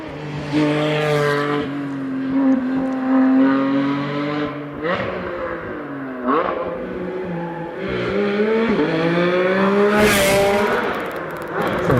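A hillclimb race car climbs the hill at Doune, its engine loud and close as it revs through gear changes, pitch climbing and dropping repeatedly, with a sharp burst near the end.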